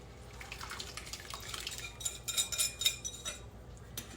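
Pot roast gravy mix is poured into a pot, making soft liquid splashes and drips with a few light clinks of metal and cookware, close and fairly quiet, with no talk over it.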